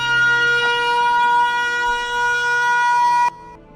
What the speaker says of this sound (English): Oh no, the raid siren.